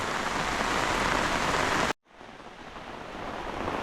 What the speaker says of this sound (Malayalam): മഴ നല്ലതായിട്ട് പെയ്യുന്നുണ്ടേ